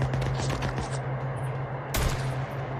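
Rapid bursts of gunfire in the video game Days Gone crackle over a steady low electronic hum, with one louder, sharper shot standing out near the end.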